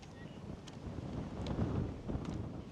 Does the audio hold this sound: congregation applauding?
no